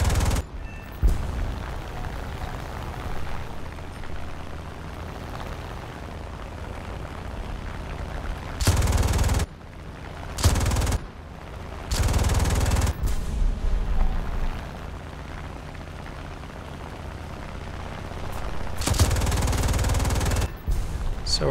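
Bursts of aircraft cannon and machine-gun fire from a He 112 V-5 strafing ground targets in War Thunder, several loud broadband volleys of a second or so each, separated by a steady engine drone.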